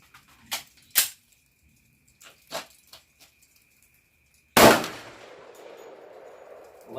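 FN 510 Tactical pistol firing a 200 grain jacketed hollow point 10mm +P load: a few sharp clicks and taps, then one loud, close gunshot with a ringing decay.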